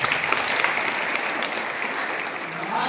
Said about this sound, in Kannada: ಇಷ್ಟ ಆದ್ರೆ ಒಂದು ಜೋರಾದ ಚಪ್ಪಾಳೆ ಬರ್ಬೇಕು